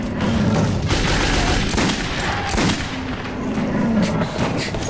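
Sustained, dense gunfire from the video game Metro 2033, a loud continuous barrage of shots and blasts filling the whole stretch with no pause.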